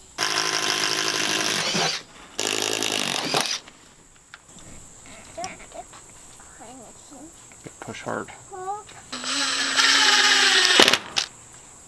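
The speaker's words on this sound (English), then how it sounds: "I need to drill some holes so I can attach a rope." Power drill whirring in three loud bursts as it drills holes for attaching a rope, the first two back to back, the last after a pause filled with birds chirping and a brief spoken remark.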